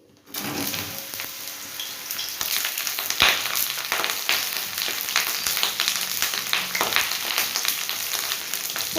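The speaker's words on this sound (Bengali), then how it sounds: "তো চলুন পটলটা আগে ভেজে নিই।" Big chunks of pointed gourd sizzling and spitting in a hot pan, a dense, continuous close fry that starts abruptly and carries steadily throughout with small pops and crackles, no voices.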